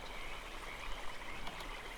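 Frogs croak in a swampy area of the video game Ark Survival Ascended, a faint, steady chorus under a constant hiss of ambient noise.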